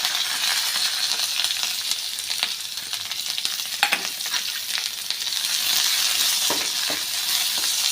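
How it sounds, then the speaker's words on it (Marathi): Steady loud sizzling of onions frying in hot oil in a wok, cooked until darkened for Bazar Amti curry, with occasional scraping stirs, and no voices. "कढईमध्ये आता आपण तेल टाकूया कांदा टाकून घेऊया"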